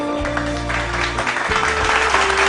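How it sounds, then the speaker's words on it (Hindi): Spectators at a Human Rights Day ceremony clap steadily over a sustained tonal hum or music bed, moderately loud and continuous through the short stretch. "पॉपुलर मेरिटी साहब के लिए जोरदार तालियां दोस्तों"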